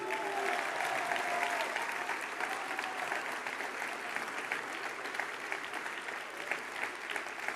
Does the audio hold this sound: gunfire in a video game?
no